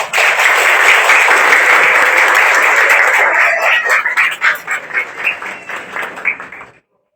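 A live audience at a Portuguese-language spiritist talk bursts into sustained applause, dense and loud for about five seconds, then thins into scattered individual claps before stopping abruptly.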